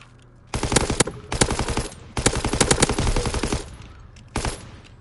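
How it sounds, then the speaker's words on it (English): A Tommy gun fires in Call of Duty WW2 online multiplayer: several loud, rapid full-auto bursts with short pauses between them, ending with one last brief burst. "A Tommy gun."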